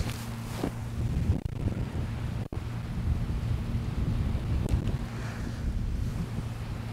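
Wind on a golf course buffets the microphone in a steady low rumble with soft gusting swells and one brief dropout, heard alone without talk.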